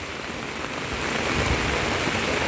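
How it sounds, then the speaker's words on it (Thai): Steady heavy rain pours down in a dense, continuous hiss that swells slightly louder partway through, with no voices, during a strong-wind rainstorm with floodwater outside a house. "อันนี้ลมแรงแล้วก็ฝนแรงแล้วนะคะ"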